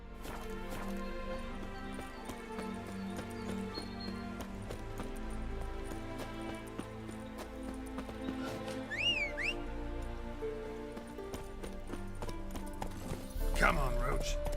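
Roach, a horse in The Witcher 3, gallops with steady hoof clip-clops beneath continuous game music, with a brief whinny-like sweep midway and a louder burst near the end.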